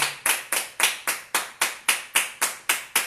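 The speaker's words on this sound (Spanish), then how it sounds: "Dale un aplauso al Señor." A church congregation claps in praise, about a dozen crisp, evenly spaced claps in a steady rhythm, close and distinct with brief gaps between them.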